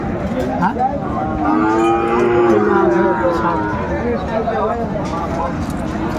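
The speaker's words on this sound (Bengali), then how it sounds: "শাহিওয়ালের ষাঁড় বাচ্চা আমরা দেখছিলাম এখানে" Sahiwal bull calves at a cattle market give a drawn-out moo in the middle, close by, over steady talk and background chatter.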